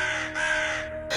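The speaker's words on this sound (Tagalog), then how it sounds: "Nang makarinig na siya ng mga tunog ng uwak." Two harsh crow caws ring out close and loud, one long call followed by a short second one.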